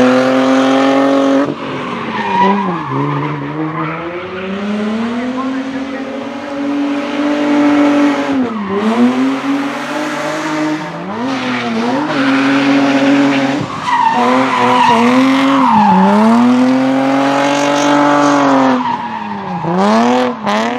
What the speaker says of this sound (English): The 350Z makes a great drift car.